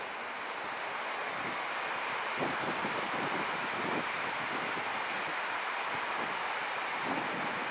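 Wind gusts steadily at an evening train station in Warsaw, a broad constant roar buffeting the microphone with faint rumbles underneath and no voices.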